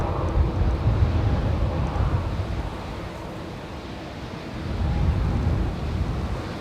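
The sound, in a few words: Boeing 787 Dreamliner arriving at Manchester Airport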